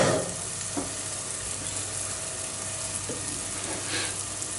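Giant puffball and oyster mushrooms fry in a pan with a steady, close hissing sizzle, broken by a few soft scrapes and stirs.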